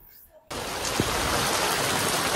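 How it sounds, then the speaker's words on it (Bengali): Heavy rain pours down in front of a garage, a dense, loud, steady hiss that starts abruptly after a brief quieter moment and continues unbroken. "খুবই বৃষ্টি পড়ছে আমাদের গ্যারেজের সামনে"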